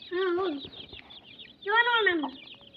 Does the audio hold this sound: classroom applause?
no